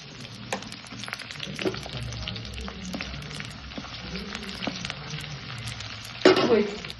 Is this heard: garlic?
yes